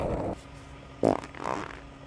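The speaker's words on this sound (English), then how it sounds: "Never too old for a fart." A fart sounds out alone in a quiet room: one short, loud burst near the middle, followed by a softer, longer rumble, with a brief low noise just before.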